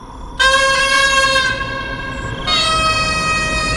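A loud, sustained horn is blown by a village headman arriving with two servants in a spooky folklore tale. It sounds as one long blaring tone that shifts to a second, brighter blast partway through, close and unbroken.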